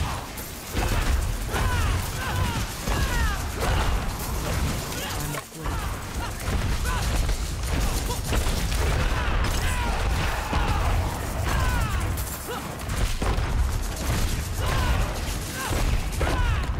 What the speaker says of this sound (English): oh, that's a lot of explosions.